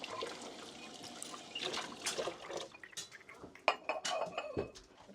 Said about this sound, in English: I'll go back to doing the dishes